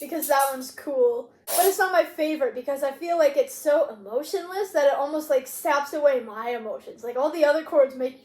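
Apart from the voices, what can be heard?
No everyday noise stands out behind the speech.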